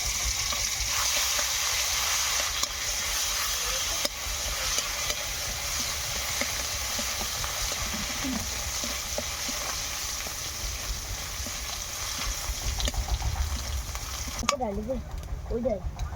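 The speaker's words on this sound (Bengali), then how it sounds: "রসুনগুলো ভাজা হয়ে গেছে" Garlic, cumin seeds and bay leaves sizzle steadily in hot oil, a continuous close crackle with occasional stirring scrapes and a brief voice near the end.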